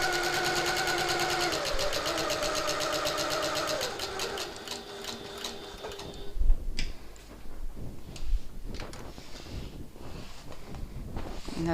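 Sewing machine stitching a reversible hobo bag, a fast steady whirring run for several seconds that then stops, followed by quieter handling clicks and knocks.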